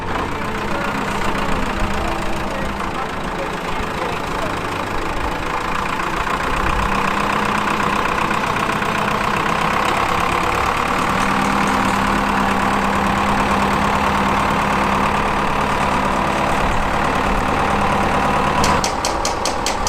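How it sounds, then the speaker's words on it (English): A Panavia Tornado GR4 jet taxiing at the Yorkshire Air Museum, RAF Elvington: a steady, loud engine drone with a low rumble and broad whine that holds evenly throughout, no voices. "that's the GR4 making its way around the front"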